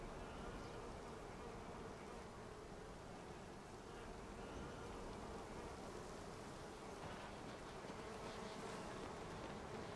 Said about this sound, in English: You guys hear bees?